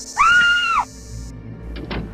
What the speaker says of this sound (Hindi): जिन्हें देखकर मैं चीख पड़ी